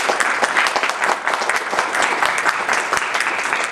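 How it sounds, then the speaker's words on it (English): An audience at a university panel event applauds a panelist, dense steady clapping from a crowd filling the room, loud and sustained throughout. "Let's give him a round of applause."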